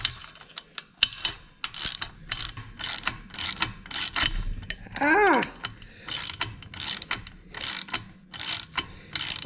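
A ratchet clicks in rapid, repeated bursts while bolts are tightened on a Ford 9 inch axle assembly, with a short squeaky whir partway through.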